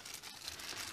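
Plastic bag of rhinestone beads being handled, a faint, soft continuous crinkling and rustling close by, with no voices.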